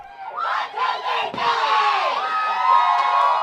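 Crowd of students, parents and family cheering and shouting together after a high school game outside the gym, a loud sustained mass of excited voices and whoops with no single speaker standing out.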